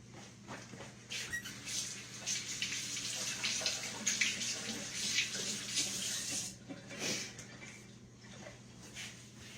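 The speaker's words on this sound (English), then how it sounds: "Let me wash up." Hands are washed under a running kitchen tap, a steady hiss of water with splashing and patter as the hands move through the stream, close and fairly soft, with no talking.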